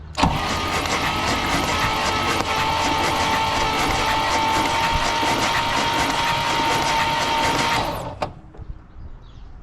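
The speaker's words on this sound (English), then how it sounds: "Starter is unhappy. A lot of stuff in there. Wish it would spin a little faster." Starter on a 1964 Pontiac Catalina barn find, laboring to crank an oily engine with the plugs out: a loud, steady whirring churn that goes on for about eight seconds, then stops abruptly, leaving a faint clunk and near silence.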